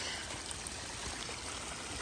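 A steady rushing of flowing stream water fills the scene, close and continuous, with no voices.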